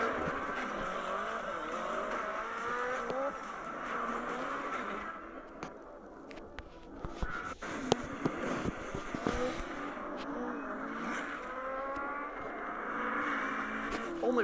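Koenigsegg Jesko running on normal gasoline, its engine note rising and falling with sweeping revs and a brief squeal of tires, steady and moderately loud throughout.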